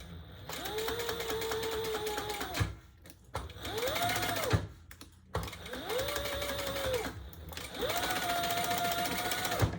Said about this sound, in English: Now we're going to stitch these together at the seam allowance in the pattern.